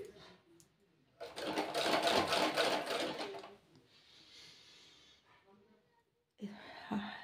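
A sewing machine runs in one steady burst of rapid stitching, stitching the waistband of a six-panel petticoat, loud and close. A softer whirring follows, and brief handling noises come at the end.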